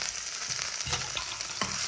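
Crushed ginger and garlic hit hot oil with popped mustard seeds, giving a steady bright sizzle with a few sharp crackles and pops and no voices.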